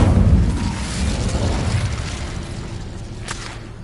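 An Incendio fire spell goes off in Hogwarts Legacy, a loud low whooshing blast of flame that rumbles and then fades, with a faint later crackle.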